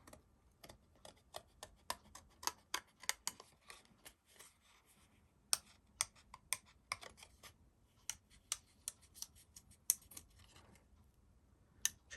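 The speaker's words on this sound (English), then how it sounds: "So just cut those wings out." Scissors snip through paper card to cut out wings, a quiet close run of sharp irregular clicks and snips with short pauses in between, no voices.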